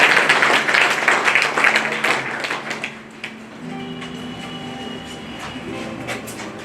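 School students at Birsa High School in Hathiya Gonda, Kanke, Ranchi, break into loud applause: dense clapping that swells early, then fades over a few seconds into quieter room noise with a background hum.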